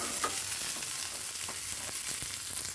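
Green chillies sizzle and crackle in a pan for mashed dal bhorta, a close, continuous frying hiss with a few soft stirring clicks.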